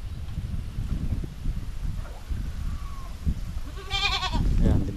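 A goat bleats near the end of the clip, a wavering, quavering cry rising out of steady outdoor background noise on a farm where several goats are penned.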